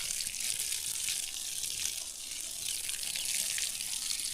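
Water splashing and spraying as someone plays in it, a continuous bright hiss and splatter that stays close and fairly loud throughout.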